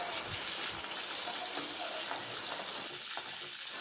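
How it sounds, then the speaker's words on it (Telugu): Green chillies frying in oil for a coconut chutney, a steady broadband sizzle with faint crackles running throughout, fairly quiet and alone without speech. "ఈ మిర్చి అనేది బాగా ఆయిల్లో ఫ్రై అవ్వాలండి"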